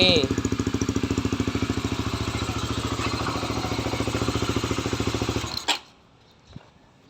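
A Honda CB150 motorcycle engine runs close by with a fast, steady pulsing beat under the throttle for about five seconds, then cuts off abruptly into near silence.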